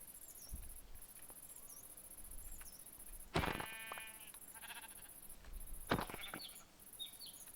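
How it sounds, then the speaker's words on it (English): Sheep in a video game bleat twice, a few seconds apart, over steady game ambience with a constant high tone and small chirping effects. "More sheep."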